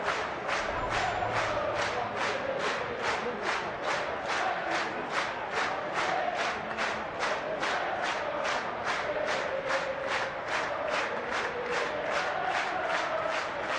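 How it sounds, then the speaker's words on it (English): A rugby crowd at Northampton Saints versus Sale Sharks in the Aviva Premiership chants in a fast, regular rhythmic pulse, a dense mass of voices heard from a distance and sustained throughout. "Well, it's a happy crowd"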